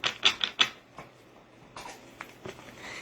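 Oracle cards being shuffled by hand, a quick run of four soft crisp riffling taps followed by a few fainter shuffling clicks, close and quiet with no talking.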